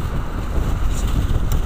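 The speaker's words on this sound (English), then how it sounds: "As you can tell, it's awfully windy." Steady, heavy wind buffets the microphone with a continuous low rumble and no other sounds.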